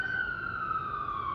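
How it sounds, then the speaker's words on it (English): A siren wails steadily outside, a single held tone sliding slowly downward, loud and unbroken with a low rumble of background noise beneath it. "because the siren's going off"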